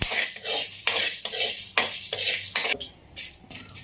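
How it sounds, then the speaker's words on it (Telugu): Chana dal and urad dal are roasted in a pan, with a spatula scraping and stirring in repeated rhythmic strokes over a faint sizzle, heard up close. "ఇప్పుడు ఈ ప్యాన్లోకి శనగపప్పు, మినపప్పు ఒక 2 మినిట్స్ గోలించుకోండి."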